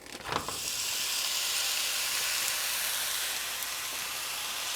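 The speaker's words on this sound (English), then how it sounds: "We're going to cook our ground meat. So this is 1 pound of ground beef." One pound of ground beef hits a hot pan with a sharp initial crackle, then settles into a steady, loud sizzle that continues unbroken.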